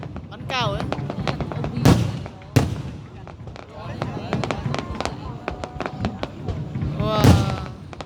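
Fireworks launch at a New Year celebration in Tien Lang, Hai Phong, with whistling rockets rising and repeated crackling bursts and pops at mid distance, while excited voices talk and exclaim throughout.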